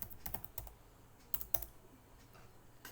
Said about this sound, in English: you can simply type the variable name FIR underscore low pass underscore coefficients